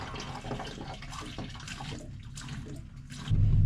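Coolant running out of an opened drain valve on a John Deere 3020 tractor, a steady trickling, splashing flow that swells louder near the end.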